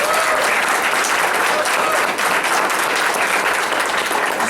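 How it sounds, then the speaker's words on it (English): A school-board meeting audience gives a dense, steady round of applause for an elementary school teacher, loud and continuous with no voices over it. "Let's give her a big round of applause."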